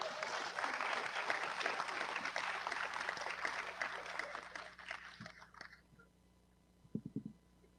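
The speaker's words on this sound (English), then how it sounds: "We'll give her a round of applause" An audience at the opening ceremony of a national Toshaos council conference claps in dense, sustained applause for several seconds before it fades out, followed by a few faint knocks.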